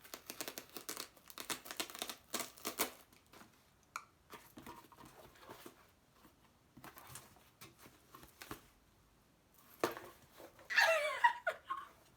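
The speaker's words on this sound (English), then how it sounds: "I don't really want to rip my name, but I guess I gotta rip my name." A paper name tag is ripped at a women and diversity event: soft crinkling early on, then a short, louder tearing burst near the end after quiet stretches.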